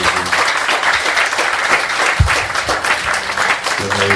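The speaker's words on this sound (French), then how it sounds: "Allons applaudir pour encore de la gloire" A church congregation breaks into loud, sustained applause, dense clapping from many hands with a faint murmur of voices underneath.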